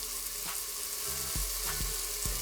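Onions sautéing in an Instant Pot, a steady close sizzle punctuated by several sharp spoon knocks and scrapes against the pot.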